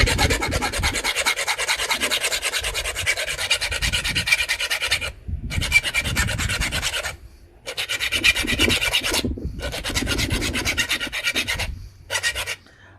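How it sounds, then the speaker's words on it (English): Flint knapping tools being sharpened by filing, a close, continuous rhythmic rasping scrape in long runs broken by a few short pauses. "let's sharpen our tools."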